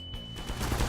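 Rapid explosions boom in a video game, a dense, loud barrage of blasts that builds and grows heavier toward the end, with no talking.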